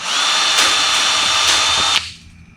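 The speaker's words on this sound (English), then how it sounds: "chuck it up in your drill" A power drill whirring steadily as it spins scrap MIG welding wire to straighten it, a loud continuous high-pitched whine that cuts off abruptly near the end.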